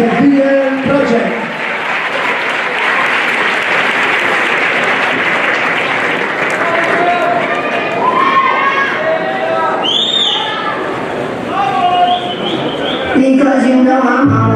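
Loud, sustained applause from an audience greeting the VL Project dance group at Barrio Latino in Salerno, with crowd chatter and occasional whistles and cheers running through it.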